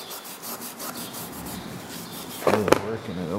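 A white non-abrasive scrubber pad rubs back and forth over wood in steady close strokes, then a short louder burst of scrubbing and knocking near the end.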